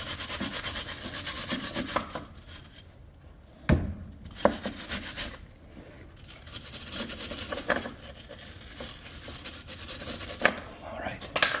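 Scrubbing crud off the threaded bolts of a Jeep Grand Cherokee ball joint, a steady close rasping rub with a few sharp knocks, quieter pauses in between.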